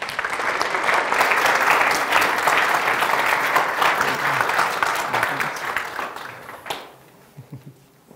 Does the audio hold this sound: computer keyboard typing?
no